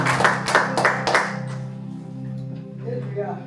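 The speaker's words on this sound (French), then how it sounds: "Acclamons très fort dans notre moment passionné" Church congregation at a Sunday service clapping together, several loud rhythmic claps at first fading out over a sustained organ or keyboard chord.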